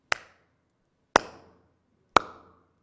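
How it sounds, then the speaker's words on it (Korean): Three crisp single hand claps, evenly spaced about a second apart, as in a shrine ritual, each one sharp and close with a quick fading ring, and nothing else heard between them. "박수를 3번을 칩니다."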